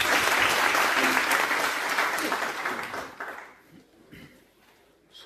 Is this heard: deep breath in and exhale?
no